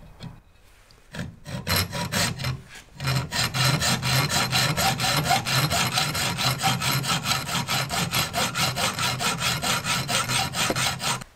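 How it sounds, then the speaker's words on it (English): A hacksaw cuts metal crank pieces for a two-throw crank of an opposed twin internal combustion engine, with rapid, even back-and-forth strokes, loud and close, after a few hesitant starts. "So now I need to remove these pieces here with the hacksaw."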